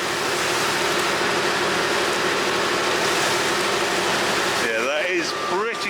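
Feeder wagon chopping silage with a classic Massey Ferguson 3080 tractor, a steady loud mechanical drone under the work, with a voice talking briefly near the end.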